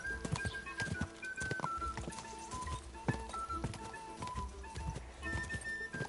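Horse hooves clip-clopping at a steady riding pace in Kingdom Come, with sharp, evenly spaced hoofbeats close by and faint birdsong behind them.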